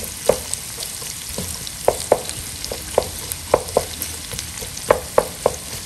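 Sotanghon guisado glass noodles frying in a pan with milkfish, a steady sizzle broken by a dozen sharp scrapes and clacks of a utensil stirring at irregular intervals, close and fairly loud with no voices.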